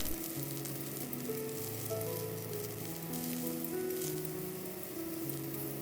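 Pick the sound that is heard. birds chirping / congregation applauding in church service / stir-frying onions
stir-frying onions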